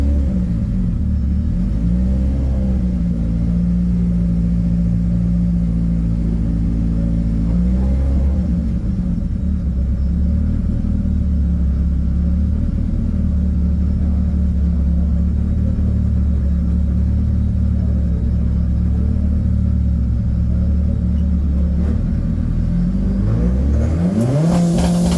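Loud engines of doorslammer drag racing cars roar continuously with rising and falling pitch as they launch and accelerate hard, a heavy rumbling drone close by throughout.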